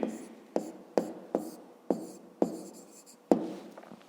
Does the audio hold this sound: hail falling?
no